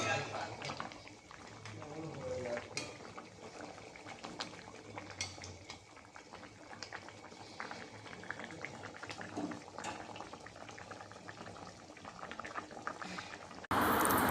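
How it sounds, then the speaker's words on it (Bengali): Fish curry bubbling in a pot as lentil dumplings (bori) are dropped in, a steady close boil with clinks of utensils and a voice talking over it. "আর এই যে মা মাছের ঝোলে বড়ি দিচ্ছে"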